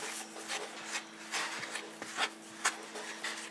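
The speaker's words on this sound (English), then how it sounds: "mush the butter and the flour together" Butter and flour get mushed together on a plate, a soft close rubbing and scraping in irregular strokes, faint and uneven.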